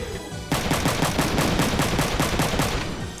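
Rapid machine-gun fire in Front Mission 3, a loud, close, steady stream of evenly spaced shots lasting several seconds with no talking over it.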